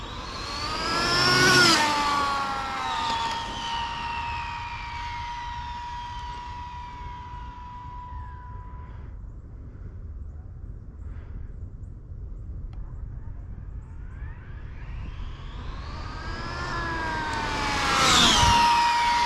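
An ARRMA Infraction S6 V2 RC car screams past at full throttle on a long straight road, its high motor whine dropping in pitch and fading away, then rising loud again as it returns and passes close.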